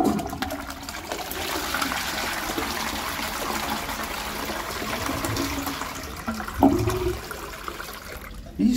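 An Armitage Shanks Sandringham Compact MK4 close-coupled toilet from around 1998 flushes with a steady rushing of water, then gurgles and trickles as the cistern begins refilling, heard up close in a small room.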